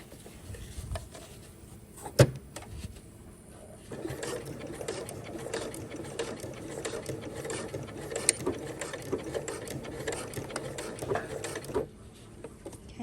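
A sewing machine stitches the overlapped elastic of a pyjama shorts waistband, with a steady, fast mechanical whir and clatter running for about eight seconds after a brief start, fairly quiet and close.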